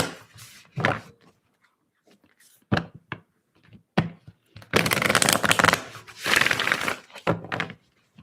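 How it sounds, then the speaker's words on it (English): Tarot cards being shuffled by hand at a table, heard as scattered short riffles and taps followed by a longer flurry of dense shuffling, close and fairly loud with pauses between. "Shuffle this again."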